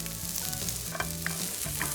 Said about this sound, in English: I'm gonna go in with these and get them going in the skillet.